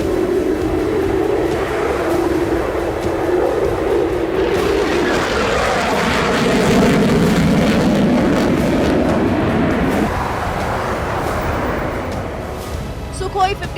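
A Sukhoi Su-57 fighter jet flies past with a loud, continuous roar that shifts in tone as it passes, and someone narrates over it throughout.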